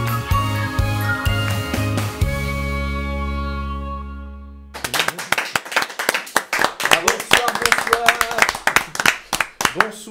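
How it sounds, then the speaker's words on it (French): A short musical jingle gives way to a studio audience on a French daily television show clapping loudly and rhythmically in quick, uneven bursts for the last five seconds. "La raison, Félix, de cet applaudissement, qu'est-ce que c'est ?"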